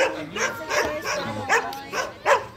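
Dogs barking in a scuffle between a German Shepherd and a mixed-breed street dog at a beach bar on Bantayan Island, Cebu, with repeated sharp barks and yelps, fairly close, over background chatter.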